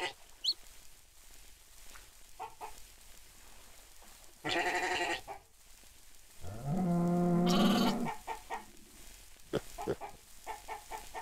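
Sheep bleating in the Minecraft-like game MineClone2, several short, loud bleats standing out against faint background sounds, with quiet gaps between them.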